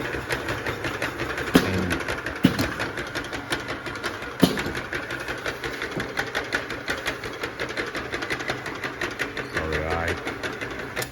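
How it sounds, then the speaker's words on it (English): A machine spins a bottle inside it, producing a steady rapid mechanical chatter with rhythmic pulsing and a few sharper clacks, loud and close throughout while someone talks over it. "you can see the bottle is spinning inside"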